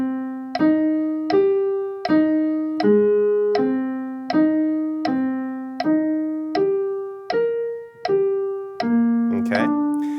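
Piano chords of a progression struck one after another at an even, unhurried 80 BPM, each ringing briefly before the next, about fourteen in a row.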